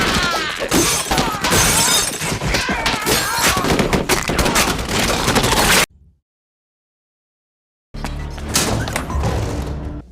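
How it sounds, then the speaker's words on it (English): Chaotic gunfight from the film Equilibrium, dense bursts of gunshots with shattering and breaking debris, loud and continuous, then a sudden silence of about two seconds before the firing resumes. "Heard gunshots."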